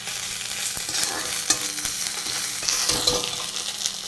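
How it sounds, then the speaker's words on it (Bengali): Bhetkul leaves frying and being stirred in a pan, a close continuous sizzle broken by repeated scraping stir strokes. "দেখো ভাজা ভাজা হচ্ছে"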